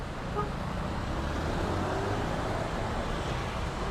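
Heavy road traffic with motorcycles weaving among cars, a steady rumble of engines and road noise with occasional horn toots, fairly distant and continuous.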